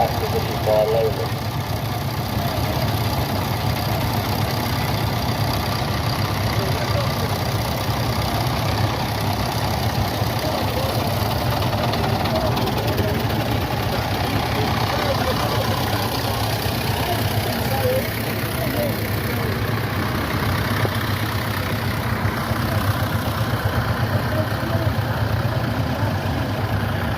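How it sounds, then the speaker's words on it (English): Tractor engine idling steadily at a constant low throb for the whole stretch, heard at moderate distance, with a person talking faintly over it. "Traçtors with weights on the front of the tractor"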